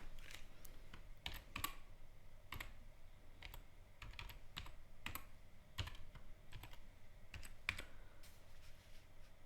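Quiet typing on a computer keyboard while renaming a folder, with irregular soft key taps and clicks spread across the whole stretch and no voices.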